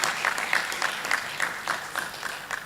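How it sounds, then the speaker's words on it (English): Audience applause at a school debate competition, a fairly quiet, steady patter of clapping with a few louder regular claps standing out near the listener. "Let's give them a big, big round of applause."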